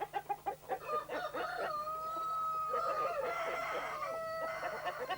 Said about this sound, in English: And cock-a-doodle-doo all day.